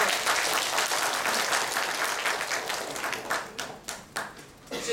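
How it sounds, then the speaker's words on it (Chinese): Applause at a Ningbo Huamao International School graduation ceremony: a hall full of steady, dense clapping that continues throughout and thins slightly toward the end. "让我们用掌声感谢所有长辈的到来"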